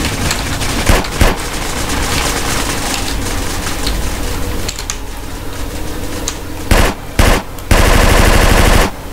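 Rapid gunfire from a Desert Eagle pistol rings out in GTA San Andreas, loud sharp shots in quick bursts mixed with constant game noise, with the final seconds dense with shooting.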